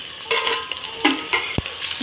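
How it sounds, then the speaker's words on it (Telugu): Spices and rice fry in a pan for veg dum biryani, a close, brief sizzle broken by a few scraping stirs and one sharp knock of the spoon. "ఇవన్నీ ఫ్రై అవుతున్నాయి కదా."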